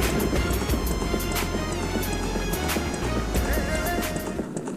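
A black horse gallops in The Legend of Zelda: Ocarina of Time 3D, with steady clip-clop hoofbeats sounding loud and continuous over a game soundtrack for nearly five seconds.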